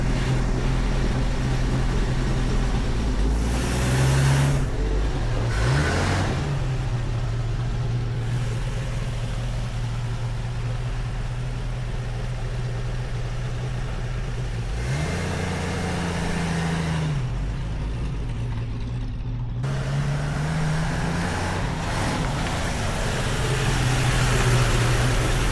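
An old Chevy truck engine with a Rochester B carburetor rumbles at idle and is revved up several times, pitch rising and falling between steady stretches, close and loud.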